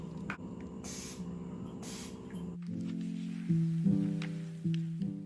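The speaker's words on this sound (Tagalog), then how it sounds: "So, isa-spray ko lang siya sa piercings ko" Aftercare spray misted onto piercings: a few short hissing bursts early on, close and fairly loud, followed by quieter tonal background sounds.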